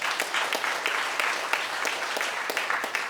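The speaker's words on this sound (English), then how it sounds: "We can give them just a little bit of applause" An audience at a community Lunar New Year celebration claps steadily for an award winner, a dense, even patter of many hands that stays at a constant level throughout.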